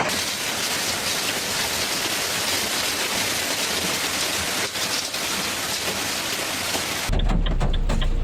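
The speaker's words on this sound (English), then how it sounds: "In some locations, hail fell together with heavy rain" Heavy rain mixed with hail in a storm in Italy, a dense, steady hiss of drops hammering surfaces for several seconds before the sound shifts abruptly near the end to a closer, muffled rumble.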